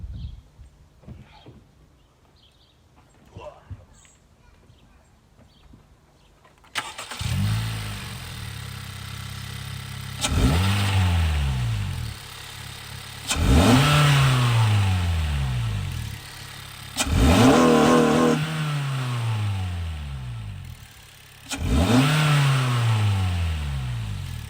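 A Honda Jazz GK5 Sport engine cranks to life after a quiet stretch, then revs up repeatedly in four or five rising and falling surges, close and loud.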